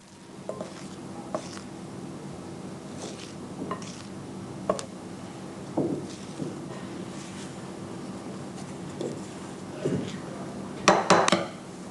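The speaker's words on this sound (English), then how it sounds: "Next, add the flour all at once and mix quickly." Flour and egg are being beaten quickly into a dough in a pan, producing irregular scraping, tapping and clinking of a utensil against metal, a closer cluster of clatters near the end.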